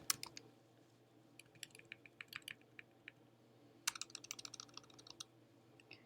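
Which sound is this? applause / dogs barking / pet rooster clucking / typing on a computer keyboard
typing on a computer keyboard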